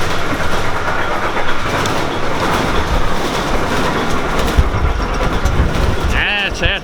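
An old Fiat 306 bus with a diesel engine runs steadily in a continuous loud rumble for the whole stretch, with clattering mechanical texture throughout. A brief squeal enters near the end.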